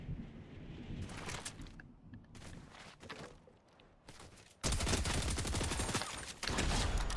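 Gunfire in the video game Fortnite, with bursts of rapid shots spread through the clip, a dense loud volley near the end, and no speech.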